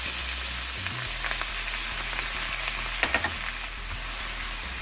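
Finely chopped onion frying in a pan gives a continuous crackling sizzle with a few sharper pops and stirring clatter near the end, over a low background rumble, with no speech.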